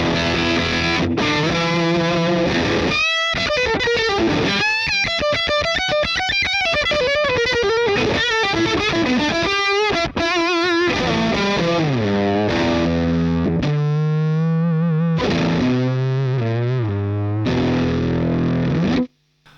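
UAFX Ruby guitar amp pedal with a boost in front, turned all the way up, roars with chaotic, fizzing distortion, notes sliding and squealing in a loud, unruly, effect-laden wash before cutting off.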